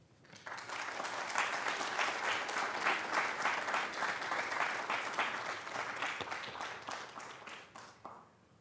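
An audience at an oratorical contest breaks into a sustained round of applause for the speakers, swelling quickly to full, dense clapping that holds steady for several seconds before tapering off at the end.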